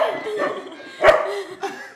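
A pet dog gives a few short barks and yips, close by, with a faint voice murmuring underneath.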